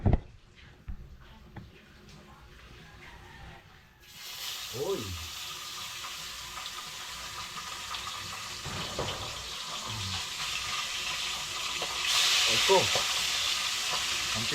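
Milkfish (bangus) frying in a hot pan with garlic, a steady sizzle that swells louder partway through, with occasional stirring clatter and faint background noise.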